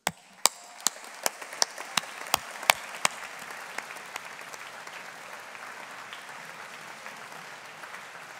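Audience applauding at a university graduation ceremony for humanities and social sciences graduates: a few sharp, separate claps at first, then swelling into dense, steady clapping from a large crowd that fades toward the end.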